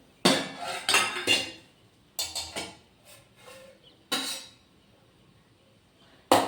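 Dishes and pots clink and clatter in sharp, close bursts while rice and a spicy mung bean vegetable curry are served onto a plate, with irregular pauses between clusters of knocks.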